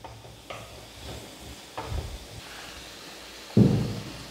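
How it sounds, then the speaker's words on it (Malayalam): Chopped tomato and onions sautéed in a pan, quiet sizzling with a few separate spoon scrapes and a louder stirring burst near the end, close and without voices. "തക്കാളിയും ചേർത്ത് നമുക്ക് നന്നായിട്ടൊന്ന് വഴറ്റിയെടുക്കാം."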